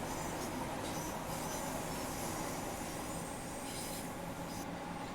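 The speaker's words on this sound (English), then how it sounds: "Very interesting sounding train." A Class 465/466 Networker electric train passes close by, its broad steady rumble and rail noise filling the whole stretch at a constant level, with brief hissing and squealing touches from the wheels on the track.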